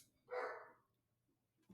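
A single dog bark, short and moderately loud, rings out once in a quiet indoor room; nothing else follows apart from a faint thump at the end.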